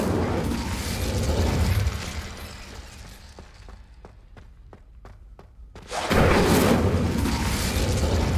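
A fire spell cast in Hogwarts Legacy gives a loud burst of roaring, crackling flame. A quieter stretch with a string of sharp ticking clicks follows, then the loud rush returns.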